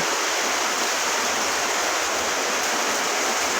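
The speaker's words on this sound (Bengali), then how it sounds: "দেখতেই পাচ্ছেন কি বৃষ্টি শুরু হয়েছে বাড়ির মধ্যে পানি জমে যাচ্ছে" Heavy rain pouring down around a house where water is pooling indoors, a loud, steady, unbroken hiss with no voices.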